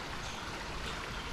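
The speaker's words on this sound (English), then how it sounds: "But moving water like this, where it's kind of moving a little bit quicker, it's really nice to do." Quick-moving creek water rushes and gurgles in a steady, even wash of sound, close by and uninterrupted, with no voices.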